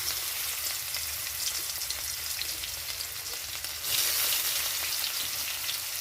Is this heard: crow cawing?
no